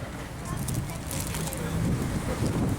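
Strong outdoor wind buffets the microphone in steady low rumbling gusts at an outdoor table in California, while people talk over it throughout.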